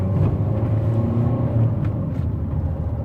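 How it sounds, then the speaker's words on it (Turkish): A Citroën Berlingo with a 1.6 engine of about 90 horsepower strains uphill, its engine revving loudly in a steady, close, droning roar that never lets up. "Motoru görüyor musun nasıl bağırıyor?"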